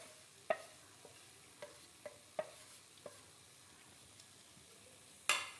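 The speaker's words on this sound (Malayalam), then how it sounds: "മഞ്ഞൾ പൊടി ഇവയും കൂടെ ചേർത്ത് നമുക്ക് നന്നായിട്ടൊന്ന് വറുത്തെടുക്കാം" Chili, coriander and turmeric powders with a coconut mix dry-roasting in a pan for squid curry over a very low flame; sparse, quiet spatula scrapes and taps over a hushed background, ending in a louder scrape.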